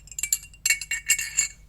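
Glass bottles clinking together in a toast, a rapid run of bright ringing chinks in several short clusters, close and moderately loud, with no talking.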